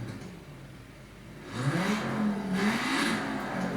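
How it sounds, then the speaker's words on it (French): A car engine in the racing game Project Cars hums low, then revs up with a rising, wavering whine before settling into a steady drone, with no voices. "on entend très bien le régime moteur"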